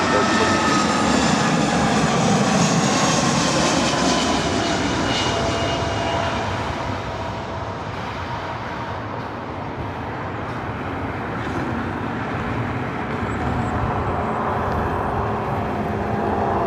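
Airliner landing on runway 24 right at LAX, a loud jet engine roar with a whining tone that is strongest at first, then eases into a steadier, slightly quieter rumble.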